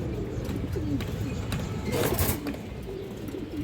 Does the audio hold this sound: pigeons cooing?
yes